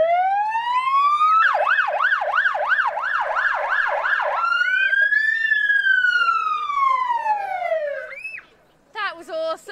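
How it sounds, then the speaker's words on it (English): A police car siren rises into a fast wail, then switches to a slow sweeping tone, loud and close, before stopping abruptly; brief voices follow. "When you see a police car like this with the lights on, what else can you expect to hear?"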